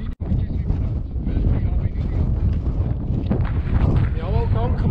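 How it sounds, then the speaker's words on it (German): Strong wind roars across a mountain summit in the Swiss Alps, a loud, steady, gusting rush that blows straight into the microphone, with someone talking under it and a brief tonal whine near the end. "Der Wind ist extrem, wie es hier tut."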